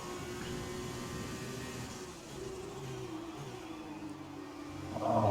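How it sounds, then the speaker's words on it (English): An F2 race car engine in the F1 2020 racing game drones at a mid pitch, gradually shifting as it revs, fairly quiet and steady before a brief louder burst at the end. "What do I think about these F2 cars? They sound fantastic. Proper raw engine note."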